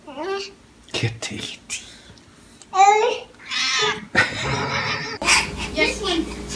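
A cat meows several times in short, high bursts, mixed with a child's babbling and soft voices nearby.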